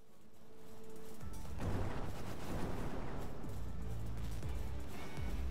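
Grenade attacks in the video game Palworld come through as a dense, continuous rumble of blasts and crackling explosions, loud and steady, with no talking.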